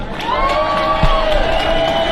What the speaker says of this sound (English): Come on, another round of applause for Gareth there